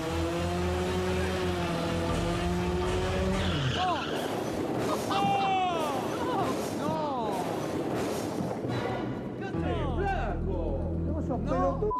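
A motorcycle engine revs hard, then tires skid and screech with a rough scraping crash, as voices shout excitedly over the noise.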